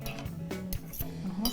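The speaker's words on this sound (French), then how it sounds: "Je vais prendre une cuillère parce que je vais tout avoir dans une même bouchée." A spoon picked up and clinking against a dish of pâté chinois, several light, bright metallic taps spaced through a short stretch, close and clear with no talk.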